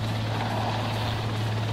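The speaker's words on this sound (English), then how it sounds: "It originated from a helicopter." A helicopter roars overhead as a steady, loud drone, with a strong low rotor hum holding constant throughout and no voices.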